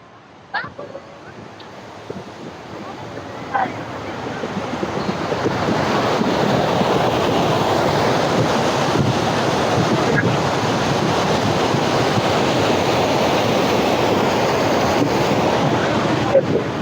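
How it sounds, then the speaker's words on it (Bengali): Water pours down at a dam waterfall in Dhanbad, Jharkhand, as a broad, steady roar that swells over the first few seconds and then holds loud and constant, with a few faint clicks early on. "দেখুন এইভাবে কিন্তু জলটা দেখুন কিভাবে পড়ছে"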